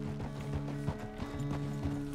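Horse hooves clip-clop at a steady walking rhythm in the video game Red Dead Redemption 2, several distinct strikes over a faint background tone.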